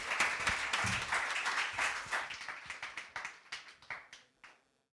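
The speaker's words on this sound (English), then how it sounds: "Can we give them a huge round of applause" An audience at the Bhopal Literature and Art Festival applauds: a dense burst of clapping that thins into scattered individual claps and fades out within a few seconds.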